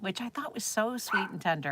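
Small dog yips and barks in the background of a live televised jewelry shopping broadcast, faint and partly masked under someone speaking continuously in the foreground.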